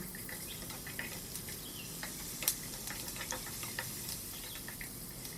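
Sliced shallots sauté in hot oil in a pan for pumpkin soup, a soft continuous sizzle broken by stirring scrapes and small crackles, fairly quiet and without speech.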